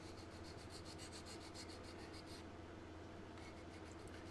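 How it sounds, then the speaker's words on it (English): A file is rubbed back and forth across a plastic scale-model car part, giving quiet, close, repeated rasping strokes in an even rhythm that pause briefly and then resume. "So all we're gonna do is take Mr. File here and just sand"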